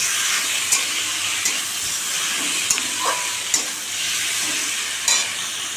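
Chicken pieces go into a hot pan of spiced masala for a home-style chicken curry, sizzling steadily with a broad frying hiss while a utensil scrapes and stirs in several sharp, close knocks.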